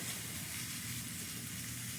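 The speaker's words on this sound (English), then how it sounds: "I hear sizzle. We love the sizzle, don't we?" Bacon frying in a pan for a tomato pie with okra, corn and red pepper, giving a steady, continuous hiss and crackle close by that holds evenly throughout without talk.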